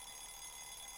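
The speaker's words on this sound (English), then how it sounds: "was woken up by the noisy alarm clock" A noisy alarm clock rings in a brief, steady, high electronic tone, faint and alone, with no talk.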